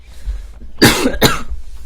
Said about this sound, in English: excuse me while I cough